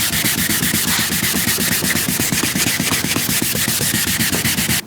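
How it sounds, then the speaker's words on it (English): Hand sanding of a car headlight lens with 800 grit sandpaper, a steady rapid back-and-forth scratching rub that continues loud and close throughout with no talk. "next we're going to go over to some 800 grit sandpaper and go over our 400 grit sand scratches"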